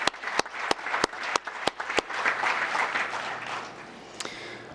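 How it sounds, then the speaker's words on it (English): A room of attendees at a town council meeting breaks into applause for a group of honored men and their leaders, starting with a few sharp isolated claps that swell into a full round of clapping before tapering off. "Let us have a wonderful round of applause for these wonderful men and their leaders"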